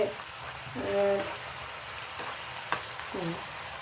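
Singi fish added to a simmering curry in a pan, a soft continuous bubbling hiss with a few brief splashes and clinks.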